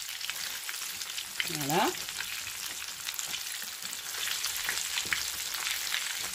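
Bread-and-turkey croquettes fry steadily in a pan of oil, a continuous close sizzle with a brief clatter of stirring or turning partway through and one short spoken word.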